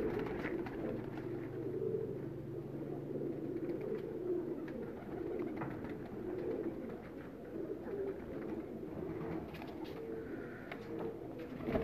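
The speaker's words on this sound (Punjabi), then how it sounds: "ਇਹ ਉਹ ਕਬੂਤਰ ਜੀ" Rooftop pigeons in Faisalabad give a steady low cooing murmur, faint and continuous with soft overlapping calls, with no talk.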